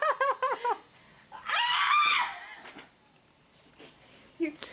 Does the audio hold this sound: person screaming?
yes